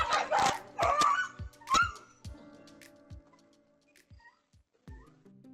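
A little dog barks in a burst of sharp, close yaps, then quieter yips and scattered thumps trail off, with one more bark near the end and no voices.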